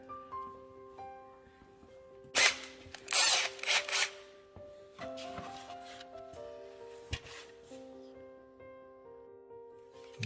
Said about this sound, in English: So I'm going to go ahead and put a couple pilot holes in there.